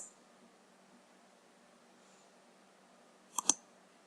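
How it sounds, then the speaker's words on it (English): A computer mouse button gives a quick double click near the end, sharp and close after near silence. "click my right mouse button, select Weld"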